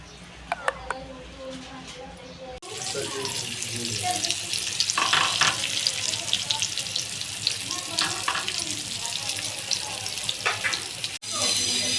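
Surmai and bangda fish pieces coated in semolina fry in hot oil, a steady loud sizzle starting after a brief pause and continuing, with clinks and handling sounds on top.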